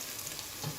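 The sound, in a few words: onions frying until light golden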